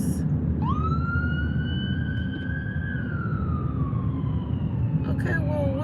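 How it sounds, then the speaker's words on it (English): A wailing emergency vehicle siren rises and holds a long sweeping tone over steady traffic rumble, fairly loud and close, with a second burst near the end. "You gonna put the siren on, or are you gonna get over, sir?"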